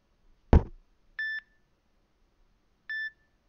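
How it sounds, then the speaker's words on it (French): NO.1 G2 smartwatch sounding its alert tones: a short sharp click, then two clean electronic beeps about a second and a half apart, each brief and steady, with silence between. "vous avez trois types de sonneries différentes. Les notifications aussi"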